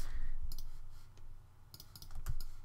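A mouse click on the OK button in Adobe Illustrator, heard as a few faint, brief clicks spread over a quiet room background with no talking.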